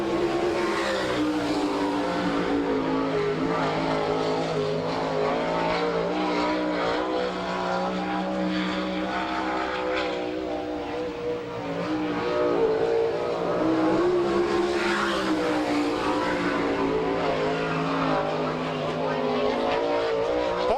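A sprint car on a qualifying lap at Salina, Kansas, during an All Stars NCRA night, its engine drone rising and falling as it circles the track, heard steadily from a distance.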